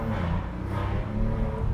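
Maserati Ghibli S Q4 engine revving up toward 4,000 rpm, heard from inside the cabin with all windows open: a steady, dense low growl with strong rumbling harmonics, held at an even, loud level throughout.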